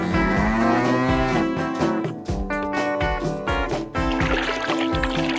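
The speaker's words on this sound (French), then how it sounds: "Au revoir, vache." A cartoon cow mooing in a children's French-language cartoon, a long, loud, low moo layered over dense background music and effects.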